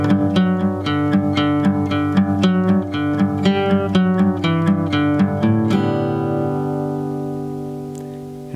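An acoustic guitar in standard tuning plays the intro of a song: a steady stream of picked notes and strummed chords in even rhythm, ending on a ringing sustained chord, solo and close.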